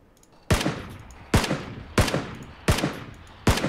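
Five loud, sharp gunshots in PUBG, spaced roughly evenly under a second apart, each with a brief echoing tail and nothing else between them.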